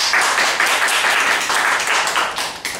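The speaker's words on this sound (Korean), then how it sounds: "후방담을 박수로 시작하도록 하겠습니다" A crowd at a forum discussion applauds with dense, steady clapping that carries on throughout, fairly close and loud.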